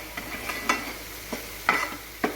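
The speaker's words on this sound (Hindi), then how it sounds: "तड़का एक नंबर का हो रहा है ना।" Spices crackle and sizzle in hot oil for a tadka, with a few sharp bursts of spattering over a low steady frying hiss, close and fairly quiet.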